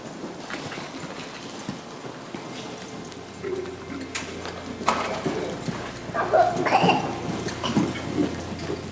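A young horse moves through a training session, its hoofbeats clip-clopping in an irregular rhythm against a steady background wash resembling rain, with occasional louder thuds and no speech.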